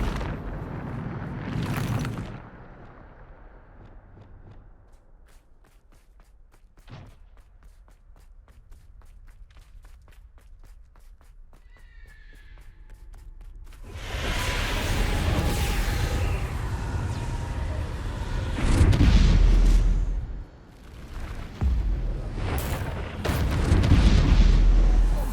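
In Hogwarts Legacy combat, spell blasts go off: one sharp burst early on, a long quiet stretch of faint ticks, then a dense run of heavy booming explosions and impacts, loud and close, with no talk.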